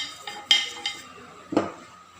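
A few scattered clinks and scrapes of a utensil stirring a steamed condensed milk cake mixture in an oiled pan, close and fairly quiet, with no voices.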